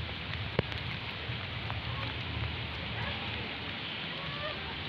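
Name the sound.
heavy rain falling outside stadium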